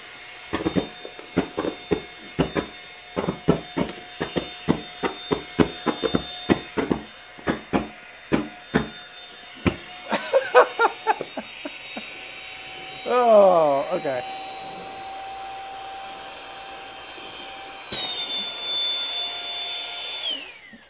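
A tire pump inflates a sleeping pad with a long run of regular, rhythmic pumping strokes, loud and close, then gives way to a steadier whooshing and whining, with a voice heard at times.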